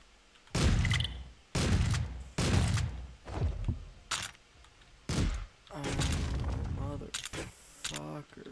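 Police gunfire in Streets of Rogue: loud bursts of shots and impacts in several separate volleys, close and punchy, with a person talking between and over them.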